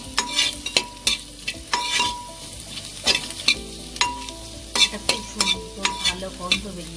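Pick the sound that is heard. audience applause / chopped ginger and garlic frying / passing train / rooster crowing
chopped ginger and garlic frying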